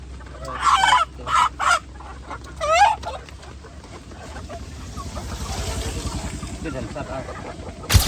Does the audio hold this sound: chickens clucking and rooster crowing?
yes